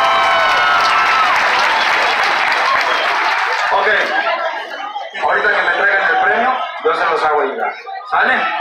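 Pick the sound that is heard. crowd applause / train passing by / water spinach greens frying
crowd applause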